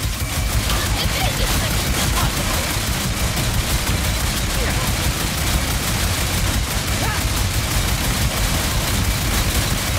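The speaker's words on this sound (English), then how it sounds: "Keep firing, Ratchet!" Dense, continuous gunfire rages through a Ratchet & Clank video game battle, a loud unbroken barrage of shots and blasts with voices shouting faintly underneath.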